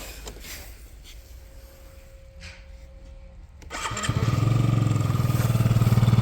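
After a few seconds of quiet background noise, a Yamaha Jog SA39 ZR scooter's small engine cranks and catches, then settles into a steady, buzzing idle close by.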